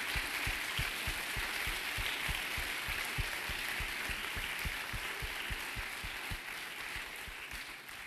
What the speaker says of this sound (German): Ich glaube, das ist ein extra Applaus nochmal wert für die Orga.